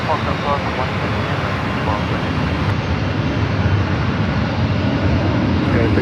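A KLM heavy jet airliner at San Francisco airport produces a loud, continuous broadband engine roar that holds steady and close throughout, with people talking over it.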